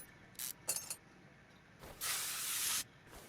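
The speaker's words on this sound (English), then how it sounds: "Got it sprayed a little bit here" Aerosol spray can hissing beneath a car during drivetrain work, in short quiet bursts: two brief puffs, then a longer steady spray of about a second, faint and close with no talking.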